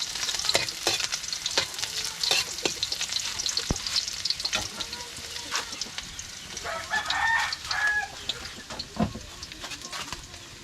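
Garlic and onion aromatics sautéed for a Filipino mung bean dish crackle and sizzle in hot oil, with sharp spatula scrapes and stirring clatters throughout, close and busy, and a rooster crowing faintly in the background.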